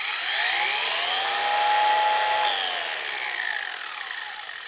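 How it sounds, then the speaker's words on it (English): Harbor Freight Bauer cordless angle grinder spinning up slowly, a steady high whine that rises in pitch as the motor gathers speed, then holds and begins to ease off, close and continuous with no talking. "if you noticed how long it takes to spin up here"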